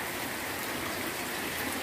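Steady rain pours down in the backlands of Bahia as a storm arrives, a continuous broad hiss of falling water lasting a couple of seconds, with no talking over it.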